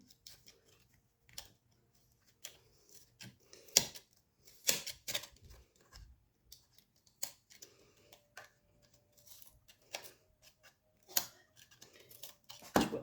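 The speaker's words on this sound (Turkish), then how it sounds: "Şu makas aldım geldim bakalım hangisi işe yarayacak." Sharp scissor snips and clicks come in irregular bursts, close and fairly quiet, with short pauses between cuts.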